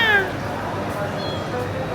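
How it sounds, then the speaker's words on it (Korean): A lost stray kitten on a street in Georgia at night gives one short, high, falling meow, followed by soft background noise and nearby voices. "새끼냥이가 있어요"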